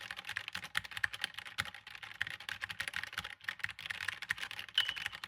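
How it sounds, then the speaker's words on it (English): Typing on a compact mechanical keyboard: a dense, steady run of crisp key clicks and clacks, close and fairly quiet, with no voices. "So when you type,"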